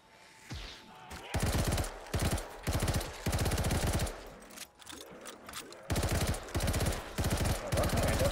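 Rapid automatic gunfire from the Black Ops 3 custom zombies mode, in loud sustained bursts separated by short gaps, with some quieter shots between them.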